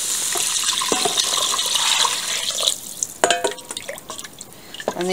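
Tap water running into a cooking pot while making white bean and noodle soup, a steady hissing stream that gives way to drips and splashes near the end.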